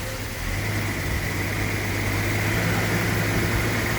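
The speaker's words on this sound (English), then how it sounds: "my nice assistant will go ahead and start this car, and you can hear it run." A 1977 Datsun 280Z engine runs steadily at a low, even idle, a continuous close hum with no revving and no voices over it.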